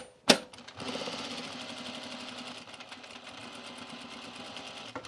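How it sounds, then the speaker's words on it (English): A sewing machine topstitches trousers from the wrong side, starting after a sharp click with a fast, steady mechanical whir that runs continuously to the end, close and clear. "let's top stitch it down"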